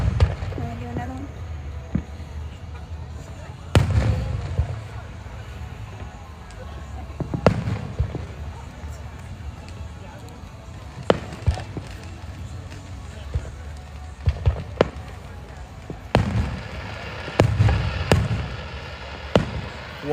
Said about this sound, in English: We're watching 4th of July fireworks tonight.